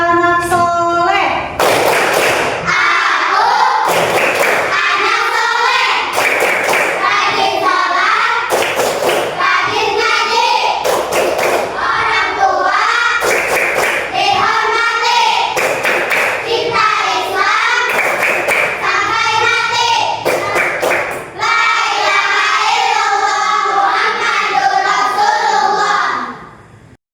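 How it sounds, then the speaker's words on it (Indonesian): Pupils in a classroom perform the rhythmic 'tepuk anak soleh' clap chant, sharp hand claps in patterned bursts alternating with children's chanted voices, loud and close throughout. "Biar semangat kita sedikit dulu ya. Tepuk anak soleh."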